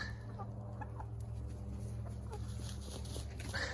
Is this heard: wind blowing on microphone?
no